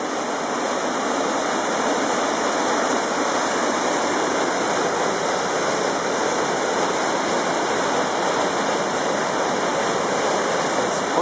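A waterfall at the end of a waterfall ride roars in a dense, unbroken rush of water, loud and steady throughout with no voices.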